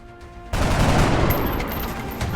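A soldier's gunshot in XCOM Enemy Within sets off a sudden loud burst of sustained, crackling gunfire that begins after a brief quiet start and rings on, with no voices present.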